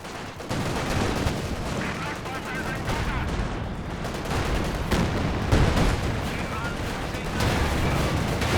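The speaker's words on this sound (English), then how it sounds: "And there goes the Zis gun. It's shooting off." Tank guns, including a ZiS gun and a T-34-85, fire in a one-on-one tank video game tournament, with dense bursts of gunfire and booms layered over continuous loud battle noise and commentary.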